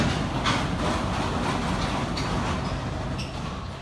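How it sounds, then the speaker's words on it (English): Passenger train on an overnight rail journey from Belgrade toward Montenegro, a continuous low rumble and rolling rail noise with faint clicks, heard close from inside the carriage and easing slightly toward the end. "This is my train for the next 12 hours."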